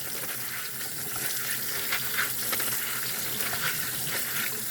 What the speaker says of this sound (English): Agitate these beans, scrub them around a little bit, make sure they get good and clean.